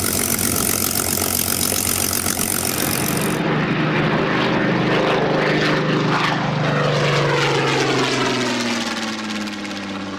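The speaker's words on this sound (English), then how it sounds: "you will recognise that noise as the noise of a Spitfire" Supermarine Spitfire fighter plane with a loud, sustained propeller-engine roar. The pitch sweeps as the aircraft passes close by, staying strong throughout with no talking.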